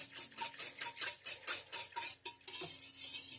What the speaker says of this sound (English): Just a quick whisk